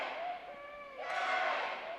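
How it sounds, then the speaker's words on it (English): The crowd at a men's basketball championship game roars as a steady broad wash of noise. It swells louder partway through, beneath a commentator's voice. "So we got the crowd going insane behind us"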